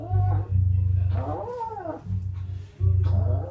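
A groomed cat in a Paris grooming salon growls and grumbles in low, drawn-out bursts with a rising wail in the middle, loud and close, while being dematted.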